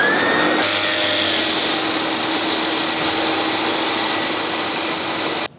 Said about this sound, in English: Okay, let's get the inside sanded up.